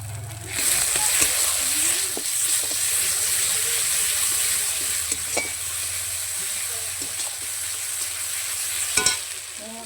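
Potato curry with lentil bori sautés in a pan, a steady broadband sizzle with scraping stirring clinks scattered throughout and a louder clatter near the end; no one speaks.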